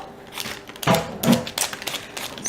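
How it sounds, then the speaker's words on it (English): A knife slices a potato on a cutting board in a few quick, close, uneven chops and taps, with no talking. "I'm going to peel my potato and then I'm going to slice it"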